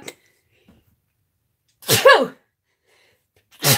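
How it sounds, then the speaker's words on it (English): A single sharp sneeze bursts out close up, followed by quiet and the start of another breathy burst at the end. "I had to sneeze."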